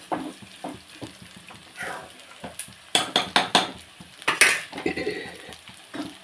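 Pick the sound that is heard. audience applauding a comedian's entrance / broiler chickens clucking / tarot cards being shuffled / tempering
tempering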